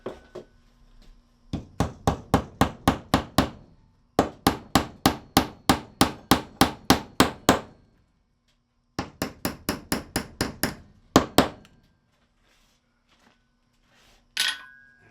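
Rapid metallic hammer strikes nailing a forged pot hook into a wall, in three bursts of about a dozen blows each, sharp and ringing, separated by short pauses, with one last tap at the end.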